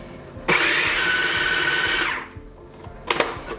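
An electric mixer whirs through black bean brownie batter with cocoa powder, starting abruptly, running loud and steady for about a second and a half, then winding down, with a brief second burst near the end.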